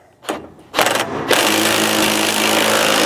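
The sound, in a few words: impact wrench tightening 3/4 socket on bed stiffener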